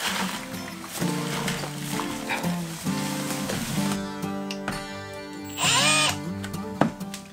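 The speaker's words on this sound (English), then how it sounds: "Don't forget to put your drill on low speed, otherwise you're gonna burn it out." Power drill turning a paddle through mortar mix and water in a bucket, a steady whirring drone with scraping and knocking, rising louder and harsher partway through, over background music.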